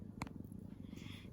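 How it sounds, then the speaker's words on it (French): A mother cat named Cristalline, nursing her kittens, purrs in a soft, steady low rumble close by, with a brief faint click near the start. "il y a maman Cristalline qui ronronne."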